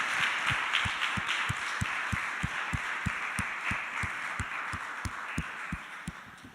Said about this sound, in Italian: Facciamo un applauso al Signore